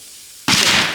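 A plastic bottle bursts in a -80°C cold experiment, one sudden sharp loud pop after half a second of near silence, followed by a brief hissing rush.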